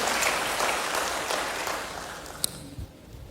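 A church congregation claps in a steady round of applause that gradually fades over a few seconds.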